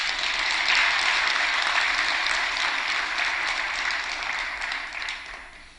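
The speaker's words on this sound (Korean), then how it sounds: "우리 찬양단 위에서 박수 한번 쳐줘요" A church congregation claps warmly for the high school youth praise team, a dense, even round of applause that holds steady and then gently tapers off.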